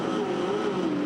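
Touring Car Masters cars at the race start at Hidden Valley, a loud continuous engine roar with a slowly wavering pitch, dense and close with no talking.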